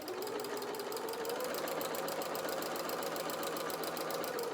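A sewing machine runs continuously, stitching the darts on a soft toy bear's body, a steady close mechanical whir with a fine rapid needle rhythm.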